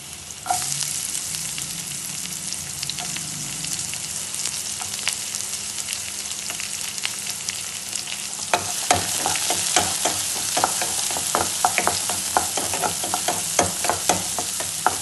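Onions being fried and stirred in a pan for homemade sweet corn soup: a steady loud sizzle runs throughout, with scraping stir strokes growing busier and more rhythmic in the second half, no voices.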